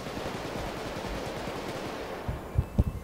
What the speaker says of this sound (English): You can hear my gunfire